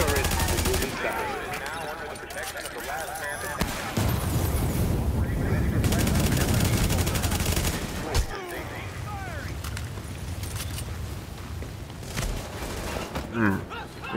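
Automated turret gunfire in the video game The Division, sustained bursts of rapid shots layered with explosions and combat noise, with someone shouting over the din.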